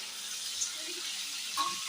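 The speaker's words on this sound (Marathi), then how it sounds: "आपले पनीर फ्राय होतात आहे तुम्ही बघू शकता" Paneer frying in a kadai gives off a steady, close hiss of sizzling oil, even and continuous with a few small pops and no voices.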